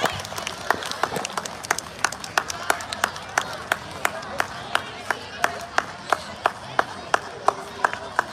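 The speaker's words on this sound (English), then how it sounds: "let us please invite them onto the dais with a big round of applause" Students walk onto the stage at a school math day celebration while an audience claps in a steady, fairly even rhythm, sharp claps standing out over a soft crowd murmur, moderately distant.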